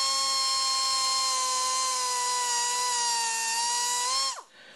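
A steady high-pitched whine of a drill spinning continuously for several seconds, then winding down abruptly as it stops.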